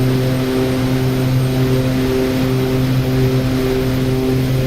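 A jet engine at takeoff power in the DCS World flight simulator on the Marianas map, a loud, steady roar with a constant humming drone and no talking.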